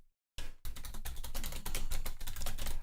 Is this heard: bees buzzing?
no